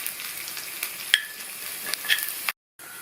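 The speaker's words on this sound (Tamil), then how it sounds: "தாளிப்பு போடுறதுக்கு 2 டீஸ்பூன் நல்லெண்ணெய் விட்டு சூடாயிடுச்சு. அதில் 1/2 டீஸ்பூன் கடுகு, 1/2 டீஸ்பூன் உளுந்து. நல்லா பொரிஞ்சிருச்சு." Mustard seeds, urad dal and curry leaves sizzle in hot sesame oil for a tempering, a close crackling fry with sharp pops before a brief cut to silence.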